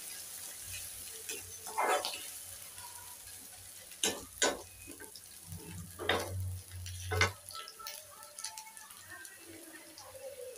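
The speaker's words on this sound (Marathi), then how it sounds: "एक मिनिट आपण ह्याला परतून घेऊ." Chicken samosa filling with chopped green chillies sautéed in a pan: a soft, quiet sizzle with a few spoon scrapes and stirs, while someone speaks occasionally.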